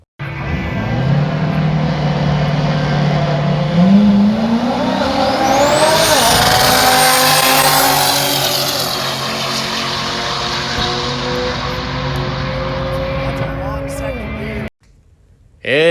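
A drag racing car makes its third pass down the track, its loud engine note climbing steadily through the run before dropping away at the end, with a voice audible over the roar.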